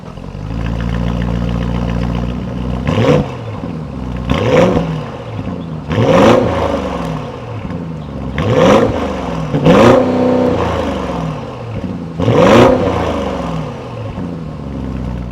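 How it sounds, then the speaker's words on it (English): Lamborghini-derived 4-liter twin-turbo V8 of a 2026 Audi SQ7 revving through quad tailpipes, with six loud sharp throttle blips rising and falling at roughly regular intervals over a deep steady idle, close and without talk. "that was the sound of the 4-liter twin-turbo V8 sold by Audi for the"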